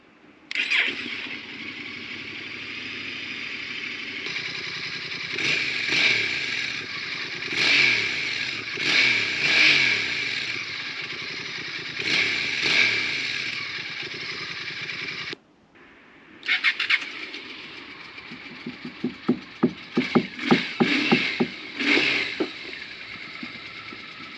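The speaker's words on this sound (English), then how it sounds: "This is starting a bike." A motorcycle starts up and revs in repeated loud bursts, then cuts out briefly before restarting with a rapid, clattering series of throttle blips, heard through a budget Bluetooth motorcycle headset speaker.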